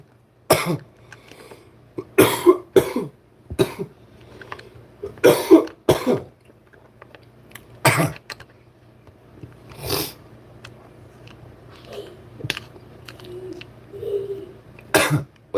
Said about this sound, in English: When you're coughing, your body's kicking the particles out.